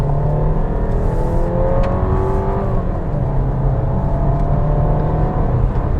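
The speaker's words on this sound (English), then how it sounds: "You can probably hear the engine there, and it actually sounds pretty good." Engine of a 2025 VW Tiguan SEL accelerating in sport mode, a steady loud cabin drone with rising then settling pitch as revs climb and shift, mixed with road and wind noise, no talking.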